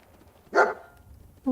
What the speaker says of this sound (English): What do you want, doggo?